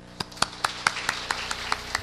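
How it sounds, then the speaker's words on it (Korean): Rhythmic clapping at a church prayer meeting, about ten evenly spaced claps in a steady beat, fairly close and moderately loud over a faint background hum. "여러분들 사랑과 감사와 환영의 마음 담아서 뜨겁게 박수치도록 하겠습니다"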